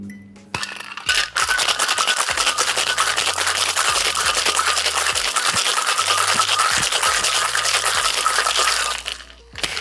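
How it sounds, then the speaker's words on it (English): Ice rattles hard inside a cocktail shaker during a coffee cocktail preparation, a fast, loud, continuous shaking for about eight seconds that starts and ends abruptly, with no talking. "Then we add ice and give it a shake."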